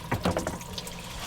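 Water trickling and splashing from a jug shot full of holes in the shooter game PUBG, a short burst of liquid spatter up close that fades into a thin, steady dribble.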